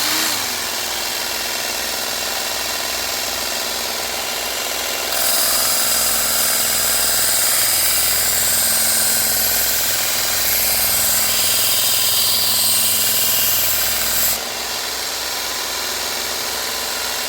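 A belt grinder fitted with an 80 grit belt grinds a Gerber Mansfield knife blade with a loud, steady close-up roar. The pitch rises and the sound grows harsher while the blade presses against the belt for about nine seconds mid-clip, and no one talks.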